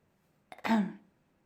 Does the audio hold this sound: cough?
yes